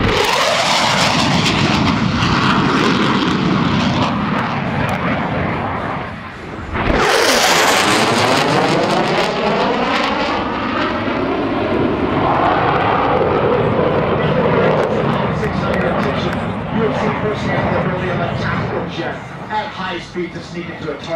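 A US Navy Blue Angels jet at the 2008 Peoria air show roars loudly, with an abrupt, intense close pass a third of the way in and a falling Doppler sweep as it recedes, under continuous announcer talk.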